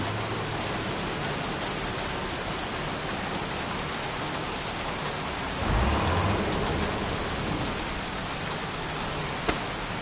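Heavy rain in the video game Heavy Rain pours steadily with a dense hiss, a low rumble swelling briefly midway and a sharp tap near the end.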